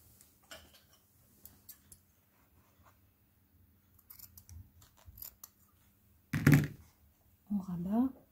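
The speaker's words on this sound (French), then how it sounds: "Et ici, vais pouvoir couper." Scissors snip fabric while a lined Christmas stocking is being sewn, several quiet, close clicks and cuts, with a brief louder snip near the end.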